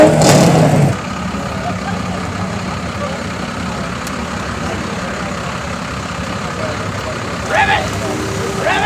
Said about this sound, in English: Rev it! Rev it! There's your truck. Here's that diesel.